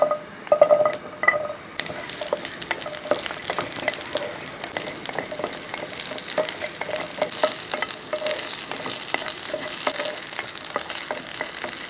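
Ten to twelve small onions fry in hot oil left over from wilting tomatoes, a steady crackling sizzle running throughout with occasional stirring scrapes, close and alone.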